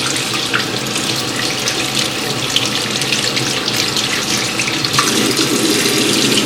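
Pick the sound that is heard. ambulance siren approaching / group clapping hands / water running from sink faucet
water running from sink faucet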